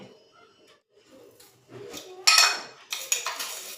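A steel spoon clinks against a mixer jar while adding about one and a half spoonfuls of gram flour (besan) for dhokla batter, first soft rustling, then a few bright metallic taps near the end.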